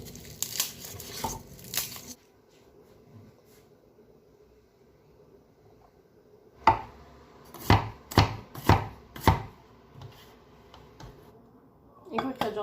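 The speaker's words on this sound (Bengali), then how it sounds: "আচ্ছা, এখানে আমি রসুন কেটে নিয়েছি একটা পুরাটা" Garlic cloves chopped with a knife on a board: a burst of quick knife strikes, a pause, then a series of sharp, close chops, loud and separate, with faint background noise in between.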